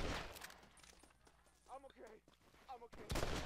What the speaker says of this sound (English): he just took two shots with a musket gun